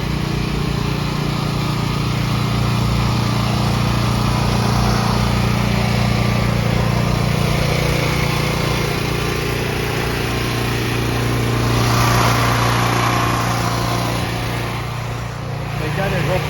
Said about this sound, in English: Down here there's a generator running.